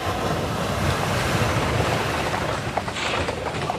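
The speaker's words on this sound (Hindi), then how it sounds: "भवन के झरोखे से सागर की उछाल खाती लहरें दिखाई देती है" Sea waves surge and crash in a continuous loud wash, mixed with gusting wind and rumbling, heard as if from a building overlooking the sea.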